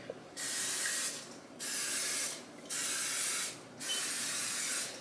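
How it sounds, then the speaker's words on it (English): Olive oil cooking spray hisses from a can in four separate bursts, each roughly a second long with short gaps between, close and fairly loud with no talking. "This is just basic olive oil cooking spray just to make sure it doesn't stick."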